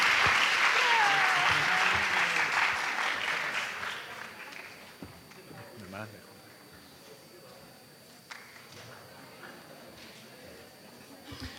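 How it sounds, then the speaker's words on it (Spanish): Applause from attendees in a university lecture hall, strong at first and then fading away over several seconds into quiet room noise with scattered movement. "Otro aplauso de los asistentes"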